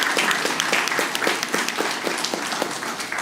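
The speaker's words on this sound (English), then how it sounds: "This is the first time I've seen people applaud the attorneys" A city council meeting audience claps for the attorneys in a dense, steady burst of applause from a moderate-sized room, with sharp individual claps throughout and a few voices underneath.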